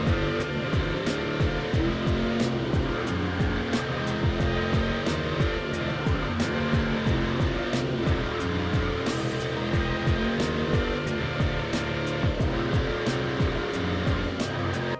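Car engine in a racing video game, a steady sustained drone with repeated rises and falls in pitch as the car accelerates and shifts, running continuously and fairly loud with no talk over it.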